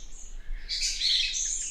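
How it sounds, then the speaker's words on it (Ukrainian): Small birds chirp in quick, high, twittering bursts in a forest near water, fairly close and clear, with no voices. "Поруч весело пурхали зовсім маленькі пташки"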